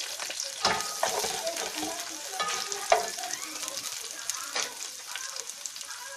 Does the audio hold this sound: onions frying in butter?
yes